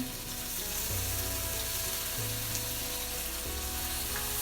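Bacon sizzles in a pan, with a steady dense crackle and hiss of frying fat, continuous throughout with faint low background tones and no speech.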